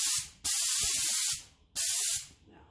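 Compressed-air spray gun at about 100 psi applying a second coat of paint to Massey Ferguson 35 tractor parts: two long, loud close hissing bursts separated by short pauses.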